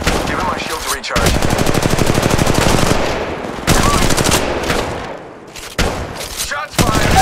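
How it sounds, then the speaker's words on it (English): Rapid automatic gunfire from Apex Legends Mobile fills the clip in loud, dense bursts separated by short gaps, with game voice lines mixed underneath. "Shots fired!"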